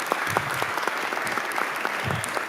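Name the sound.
applause for both debate teams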